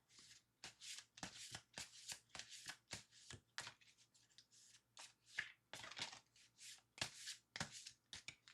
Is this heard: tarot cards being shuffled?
yes